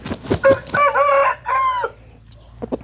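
A fighting rooster crows loudly and close by, one full drawn-out call with a few clucks before and after.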